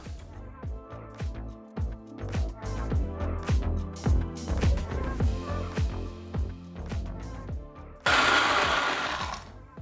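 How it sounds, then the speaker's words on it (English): A blender blending cooked vegetables with stock whirs loudly in rapid pulsing bursts, then surges into a harsh, steady high-speed roar at the end. "So we're going to put all this in the blender"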